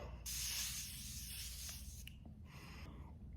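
A fine mist spray bottle of Morphe mattifying mist hisses steadily onto a face for about two seconds, followed by a couple of shorter, softer spritzes close by.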